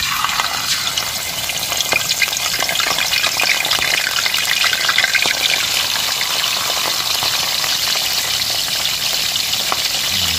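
Fish fry in hot oil in a pan, a loud, steady crackling sizzle that fills the whole clip with no voices.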